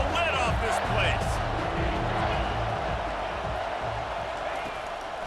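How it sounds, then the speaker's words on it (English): A loud football stadium crowd roars steadily on third down late in an Auburn versus Texas A&M game, a dense continuous wall of cheering with no break, while a commentator's voice runs over it. "this crowd is tearing the lid off this place"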